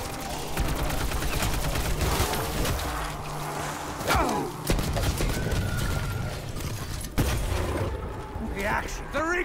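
Rapid gunfire from a weapon in the zombies mode of Black Ops 4 on the Blood of the Dead map, bursts of sharp shots in the first half and scattered later, with a player talking over the shooting.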